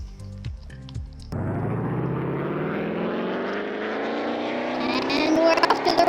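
A car engine from the Car Tycoon video game starts after a few brief knocks and then drones steadily, rising in pitch as the car accelerates, loud and close with a slightly rough, odd tone.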